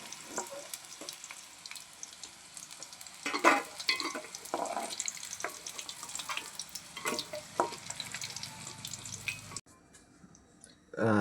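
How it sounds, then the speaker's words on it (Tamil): Okra pieces frying in hot oil, a steady close crackling sizzle with stirring scrapes, continuing for about ten seconds before cutting to quieter background at the end. "இப்போ நாங்கள் வெண்டிக்காயை பொரிச்சு எடுத்துக்கொள்ளுவோம்."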